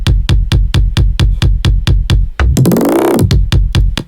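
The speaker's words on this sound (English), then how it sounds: "So I took this kick from a retro drum pack. The kick sounds like this." Retro drum-pack kick drum sample hit repeatedly in a steady fast pulse, loud and punchy with deep low thumps, briefly interrupted by a rising, sweeping synth-like tone before the kicks resume. No voices.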